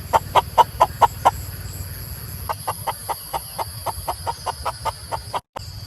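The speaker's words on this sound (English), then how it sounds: "Those wild chickens are back." Wild chickens cluck in a quick, regular series of sharp calls, close and clear over a low steady hum, continuing with a brief pause midway, on a Thai farm.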